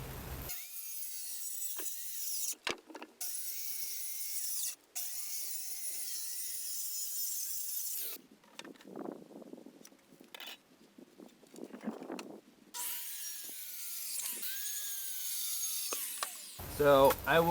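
A wood slab being cut up for bench armrest pieces, with rough bursts of sawing and scraping alongside clattering tool and handling noises, broken by short quiet gaps.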